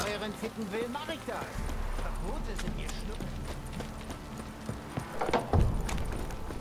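Rhythmic hoofbeats of a galloping horse in The Witcher 3: Wild Hunt, steady and fairly close, mixed with game music and ambient effects, with a louder thump near the end.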